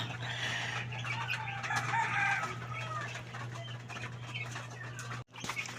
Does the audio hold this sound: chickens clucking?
yes